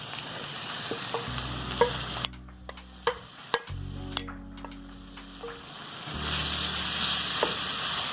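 Shrimp fry in salted butter in a pan with a steady bright sizzle, broken by a few sharp ticks and clinks as the sizzling briefly drops away and returns.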